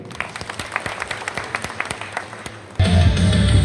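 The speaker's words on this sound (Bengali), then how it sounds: "সবার জন্য একটা জোরে করতালি" Audience applause at a Bangladeshi public gathering, starting as scattered separate claps under a faint background murmur, then swelling abruptly into a loud, dense burst of clapping near the end.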